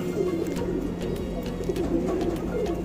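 Tournament roller pigeons cooing, a close, continuous soft throaty warble with repeated coos over steady background noise.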